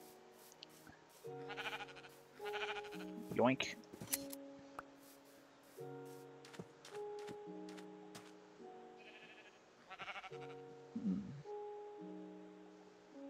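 Sheep in Minecraft bleat repeatedly, short wavering cries scattered across the scene among quiet clicks and snips from shearing. Someone talks briefly between the bleats.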